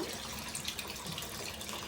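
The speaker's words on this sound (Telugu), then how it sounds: "ఇప్పుడైతే నేను చింతపండు పులుసు పోసుకుంటున్నాను" Tamarind juice poured into a pot of fish curry made with small village-caught fish and okra, giving a steady close liquid splashing and trickling sound throughout, with no talking.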